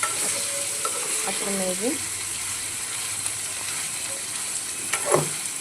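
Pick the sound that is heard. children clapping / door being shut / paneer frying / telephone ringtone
paneer frying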